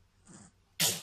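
A faint intake of breath followed by a single loud, explosive sneeze close by.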